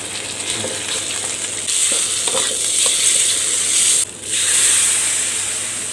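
Minced pork with chili paste stir-fries in a hot pan for a Thai dish, a loud continuous sizzle and hiss with scraping stirs, briefly dipping as the pan is moved.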